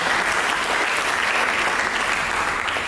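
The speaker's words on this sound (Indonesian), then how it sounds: "Mari kita berikan tepuk tangan." A church congregation bursts into applause during a Sunday service, a dense, even wash of clapping that holds steady and fairly loud throughout.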